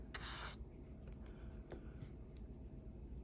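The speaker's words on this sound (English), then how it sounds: "Brush it off so we can see." Soft brushing and rubbing across a scratched lottery ticket to clear away the scratch-off dust, faint and close, with a few brief scraping strokes and no talk.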